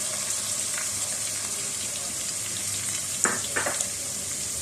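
Crushed browned onion, yogurt and spices frying in a pan for Mughlai chicken qorma, a steady moderate sizzle with two brief stirring scrapes near the end.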